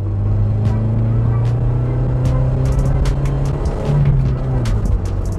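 An Opel Astra F, front-wheel drive, pulling in second gear from around 2500 rpm: a steady, loud low engine drone heard from inside the cabin, slowly building, with small clicks and rattles scattered over it.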